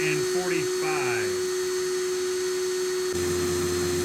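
A Ryobi P213 or Craftsman CMCD711 cordless hammer drill runs in a drill tester as a steady high whine with a sustained tone, close and loud, shifting in pitch partway through, with a voice talking over the start.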